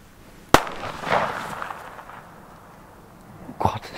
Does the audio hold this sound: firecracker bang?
yes